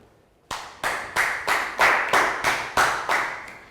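Applause for a student in a Year 3 maths lesson: about ten steady, evenly spaced claps, close and fairly loud, with no talking over them.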